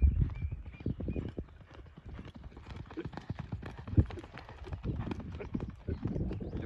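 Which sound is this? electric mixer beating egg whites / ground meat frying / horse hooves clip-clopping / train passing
horse hooves clip-clopping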